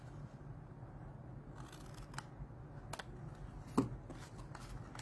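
Scissors snip through paper cardstock to shape a treat box, a few faint, sparse cuts over a quiet room background with no talking.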